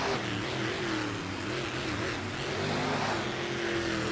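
Monster trucks Blue Thunder and Overkill Evolution rumble out toward the starting line at a Tampa racing event, a steady loud engine roar with a wavering pitch filling the arena without pause.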